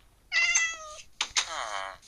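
A Minecraft cat meows twice in quick succession, the first call longer and drawn out, the second rising and trailing off, close and clear against near silence.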